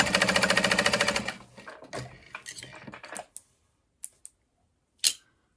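A sewing machine runs a fast, even burst of stitches while top stitching the sides of a backpack, close and clear, then stops, followed by scattered handling clicks and knocks.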